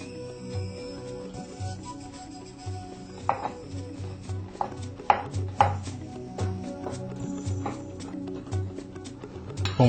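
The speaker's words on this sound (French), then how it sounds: "il faut le découper en tout petits morceaux également" A knife chops vegetable ingredients into tiny pieces on a board while egusi sauce is prepared, giving irregular sharp taps and scraping strokes at moderate volume, with a few louder knocks near the middle.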